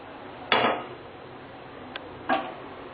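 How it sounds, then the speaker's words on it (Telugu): A pan is set down on a stovetop while cooking okra fry, giving a clear metallic clank followed by a second similar knock a moment later, close and fairly loud against a quiet kitchen. "ప్యాన్ పెట్టి"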